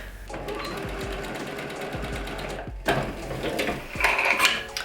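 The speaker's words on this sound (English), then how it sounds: "I'm going to show you with some scrap fabric how to do this. So first thing we'll do is just sew a basic seam." A sewing machine stitches a basic seam through scrap fabric, its needle running in a steady, rapid mechanical chatter that pauses briefly midway and then resumes, close and fairly loud with no talking.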